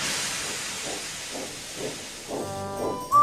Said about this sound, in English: Later, Edward puffed into the quarry